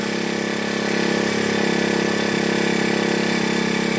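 A Toyama TBC40 four-stroke brush cutter engine idles and runs steadily up close, a loud buzzing drone that rises slightly partway through.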